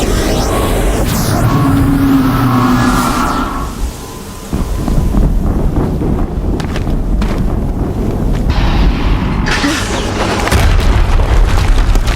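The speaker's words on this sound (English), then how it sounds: "Another explosion." Booming explosions from the video game Horizon Zero Dawn, a loud rumbling blast with a sharp drop near four seconds, then continued heavy low rumble and wind-like noise building again toward the end.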